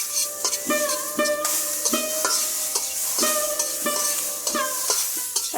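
Broad beans frying in a pan at an outdoor riverbank cooking feast, with a rhythmic series of ringing metal scrapes from the spatula over a continuous sizzle.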